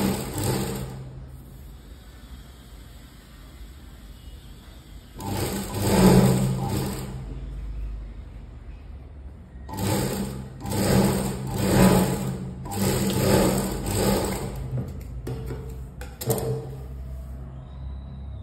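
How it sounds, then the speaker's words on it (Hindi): A sewing machine stitching a princess-cut blouse, running in several bursts of rapid mechanical whirring separated by pauses, close and fairly loud, with faint handling noise between runs. "पॉइंट की सिलाई लगा के इसको कवर कर"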